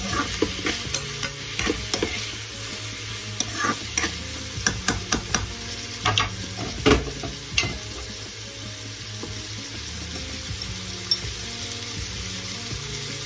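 Broccoli and shrimp being stir-fried in a pan, heard as a steady frying sizzle with a cluster of quick utensil scrapes and clinks through the first half, then settling into quieter continuous sizzling.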